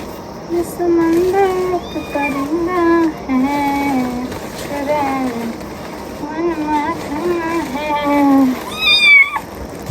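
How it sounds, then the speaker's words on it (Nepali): A cat meows repeatedly from inside a bag in drawn-out, wavering cries, close and fairly loud, with short pauses between calls and some background noise. "थैलीभित्र बिरालो आइसक्नु भएको छ"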